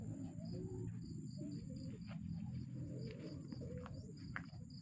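Racing pigeons at a training session in Mabitac, Laguna coo in low repeated calls, with lighter chirps over a constant outdoor background; no one speaks.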